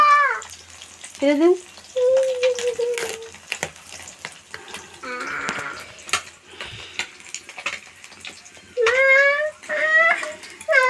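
Fish frying in a pan gives a soft sizzle, repeatedly broken by a cat's loud, close meowing.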